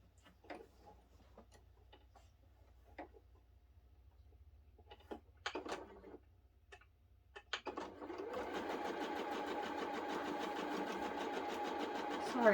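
A sewing machine stitching a quilt block starts after a few faint clicks and handling noises, then runs steadily and fairly quietly as a continuous mechanical whir for several seconds, with no talk.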